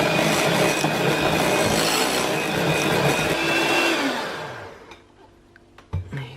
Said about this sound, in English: And 1 final little whisk.